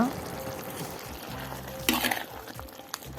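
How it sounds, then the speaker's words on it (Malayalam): Onion, garlic, capsicum and ginger fry in a pan for a chicken kadai, a soft steady sizzle with a brief louder burst of stirring and scraping partway through. "നമ്മുടെ വലിയ ഉള്ളി വെളുത്തുള്ളി ക്യാപ്സിക്കം ഇഞ്ചി ഇതൊക്കെ ഇതിലേക്ക് ഇട്ട് കൊടുത്തിട്ട് നല്ലവണ്ണം ഒന്ന് മിക്സ് ചെയ്തെടുക്കുക"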